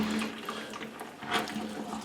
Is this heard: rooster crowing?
no